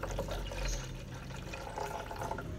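Mineral water poured from a jug into a clay pot holding a dehydrated white Hatiora cactus, a steady close splashing and trickling of liquid that runs continuously and evenly without a pause.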